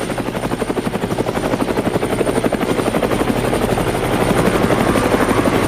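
A helicopter's rotor thumps in a steady rapid chopping beat with a deep engine drone, loud and close, growing slightly stronger as it passes.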